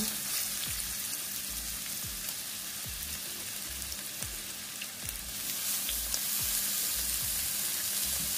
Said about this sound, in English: you want to ensure that these breasts get enough time to fry through properly on each side before it's all too brown